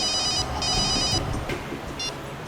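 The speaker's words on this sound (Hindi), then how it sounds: "सर अभिजीत सर का फोन था" A telephone rings in a police office, giving repeated bursts of bright electronic trilling that pause briefly between rings over a steady background hum.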